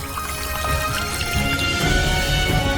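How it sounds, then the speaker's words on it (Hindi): Water poured into a flask, a steady close liquid pour with faint dripping, continuous and fairly loud throughout. "आपको बस इस फ्लास्क में थोड़ा पानी डालना है।"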